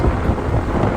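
A night thunderstorm at sea off the Croatian coast near Lastovo rumbles low and continuously, with a dense hiss of rain over it, close and steady for about a second.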